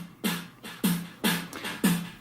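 A snare drum runs through an internal delay effect on a Tascam Model 24 mixer: four crisp, evenly spaced hits, each trailed by a washy repeating tail that fills the gaps, at moderate level with no talking.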